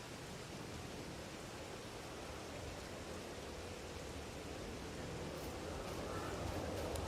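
Rain falls in the farming game Farming Simulator 22 as a steady, faint, even hiss that carries on without pause from start to finish.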